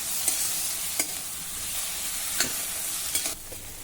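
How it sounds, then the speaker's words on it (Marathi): Whole spices, black pepper, cardamom and a cinnamon piece, being sautéed in a pan: a steady soft sizzle with a few sharp scrapes and clinks of a stirring spoon, close and without speech. "2-3 मिनिटांसाठी आता हे जरा परतून घेऊ."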